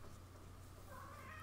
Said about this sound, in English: I think the cat is complaining because he wants food because it's dinner time for him